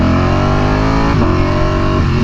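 A V4R motorcycle engine revs hard and continuously, a loud close droning roar with pitch dipping and rising around the middle; individual exhaust pops are not clearly separable from the engine noise.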